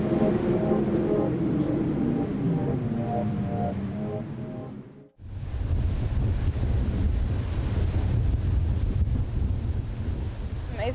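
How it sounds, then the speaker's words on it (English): Strong wind roars across the microphone with the wash of ocean waves at a windsurfing contest in Hawaii, the 2005 PWA Jeep Hawaii Pro. The noise is steady and loud, with a brief dropout midway. "It's looking pretty windy today."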